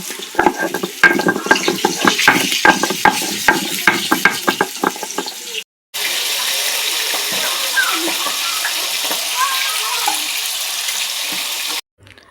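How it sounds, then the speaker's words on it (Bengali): Garlic is crushed on a flat shil grinding stone, first in quick, rhythmic scraping strokes, then as a steadier rubbing noise after a short break, close and moderately loud. "রসুনটা দিয়ে দিয়েছি শিলে, রসুনটা বেটে নেব"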